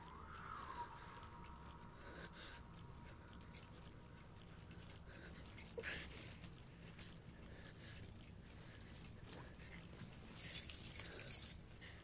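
A bunch of keys jingles quietly over a low room hum, with a brief louder metallic jangle near the end.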